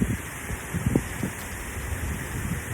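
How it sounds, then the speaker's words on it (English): Strong outdoor wind blows in a constant broadband rush, buffeting the microphone with low rumbling gusts that are heavier near the start, loud and close. "It's really windy out."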